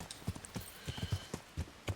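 Horse hooves clip-clopping in the medieval game Kingdom Come: Deliverance, a quick run of close, crisp hoofbeats in an uneven galloping rhythm, with no voices over them.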